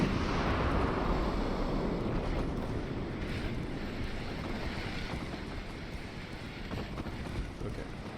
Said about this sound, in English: I hear them firing off in the distance